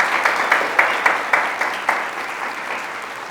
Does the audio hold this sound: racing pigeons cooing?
no